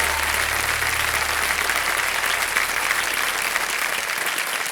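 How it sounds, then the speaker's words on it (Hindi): A studio audience at Kaun Banega Crorepati claps in a loud, dense, continuous burst of applause that holds steady for the whole span without letting up. "एक बार फिर जोरदार तालियों के साथ."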